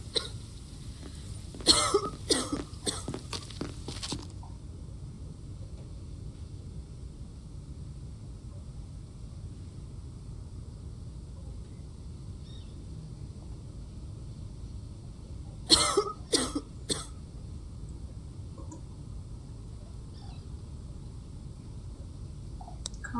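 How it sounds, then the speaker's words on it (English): A person coughs in two separate bursts, a rapid cluster of harsh coughs near the start and a shorter one midway, over a steady low background hum. "Cough."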